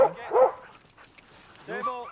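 Sled dogs in Québec give two bursts of barking and yelping: one short bark at the start and another near the end, close and loud, with a quieter gap between them.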